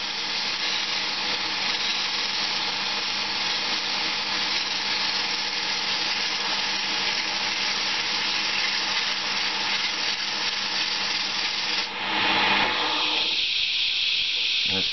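Sandpaper pressed against a spinning Banksia seed pod on a wood lathe makes a continuous, loud, even hiss that runs almost unbroken, then shifts and thins near the end as the paper is lifted.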